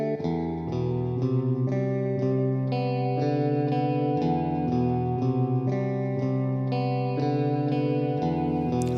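Kajita Multi Tap Delay & Reverb effect by IceGear processing a sustained, steady synth or keyboard chord pattern with repeating echoes and a reverb tail, loud and continuous with no talking.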